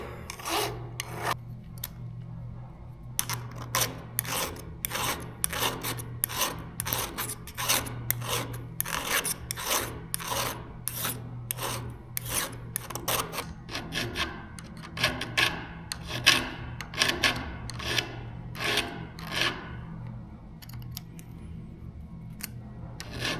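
A hand file rasps steadily against the chain of a Stihl MS 462 chainsaw, quick repeated strokes in an even rhythm, close and fairly loud.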